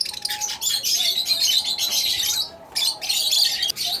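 A pair of Fischer's lovebirds in a breeding setup chirp and squawk in rapid, shrill bursts close by, loud and nearly continuous with a brief lull midway.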